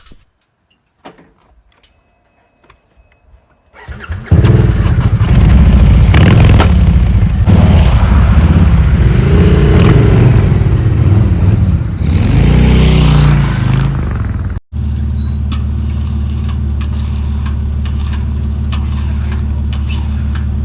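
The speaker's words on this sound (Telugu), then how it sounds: "స్విచ్ ఆన్ చేసి బండి స్టార్ట్ చేసి ఇట్లా తీసుకుంటానా" A motorbike is switched on and starts up after a few faint clicks, its engine then running steadily and loudly, briefly cutting before settling into an even idle hum.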